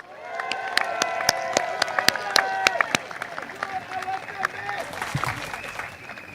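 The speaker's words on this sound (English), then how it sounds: "Can I have one round of applause for our NCMP, Hazel?" An audience applauds at a political rally, a steady wash of clapping with a few sharp nearby claps that thins out after a few seconds, alongside some crowd noise and voices.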